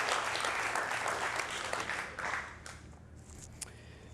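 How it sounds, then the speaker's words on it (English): An audience at a talk applauds, a dense burst of close clapping and a cheer that fades over a few seconds. "Oh, you want to clap for that? Yeah, let's clap for that."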